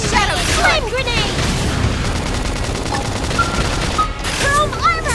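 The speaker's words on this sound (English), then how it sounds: "Shadow Flame grenade!" A Shadow Flame grenade going off in Xenoblade Chronicles X, a sustained loud blast and rumble mixed with battle effects and swooping synthetic tones, with voices calling out during the combat.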